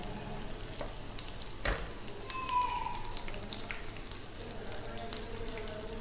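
Mushrooms frying in oil in a pan, a soft continuous sizzle with light crackling, fairly quiet and steady with an occasional faint knock.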